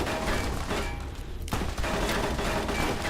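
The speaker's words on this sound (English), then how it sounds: "God, this plasma rifle is just so strong." Plasma rifle shots from Fallout: New Vegas fire in a dense, loud run of energy blasts, with a sharp burst at the midpoint followed by continued rapid discharges.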